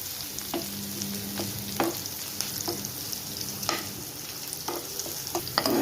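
Curry leaves and onion frying in a pan, with a steady close sizzle broken by the repeated clack and scrape of a spoon stirring against the pan.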